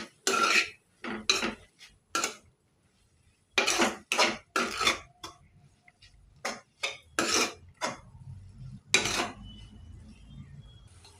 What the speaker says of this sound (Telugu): ఒకసారి ఇలాగ కలుపుకోవాలి